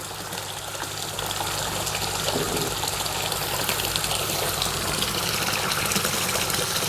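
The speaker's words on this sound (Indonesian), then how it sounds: "langsung saja saya bakal coba menyalakannya" A pond wave maker pump switched on and driving a strong water current, giving a steady broadband rush of flowing, gushing water that holds at an even level throughout with no talk.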